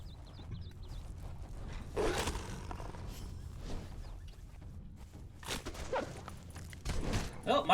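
A wolf in the survival video game Conan Exiles growls and roars in a few short bursts, around two and six seconds in, over low outdoor ambience and soft thudding footsteps.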